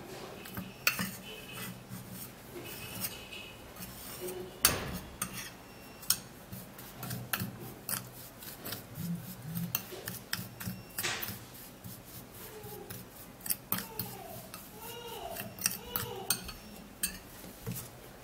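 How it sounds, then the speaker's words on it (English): Baking soda and coconut oil being stirred into a paste for homemade teeth whitening, heard as close, irregular scraping and clinking of a utensil against a container, with sporadic sharper taps and no talking. "Mix it, let it go into paste form."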